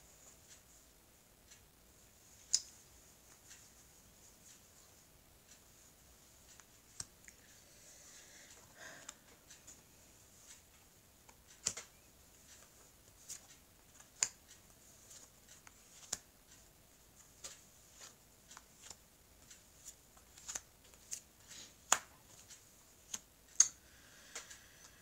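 Tarot cards shuffled and spread across a table, heard as soft scattered ticks and light card flicks, quiet and close, with sharper taps every few seconds.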